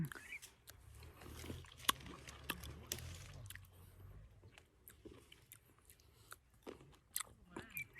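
Biting into and chewing a small fresh cherry picked from a young tree, with soft crunchy bites and wet chewing close up, spread over the clip under quiet outdoor ambience.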